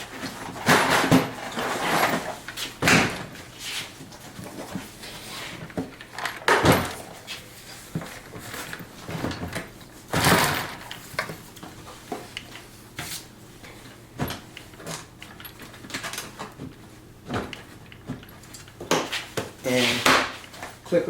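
Milwaukee Packout drawers clip onto a rolling toolbox, giving several sharp plastic clunks and clicks in irregular bursts, with handling noise between them.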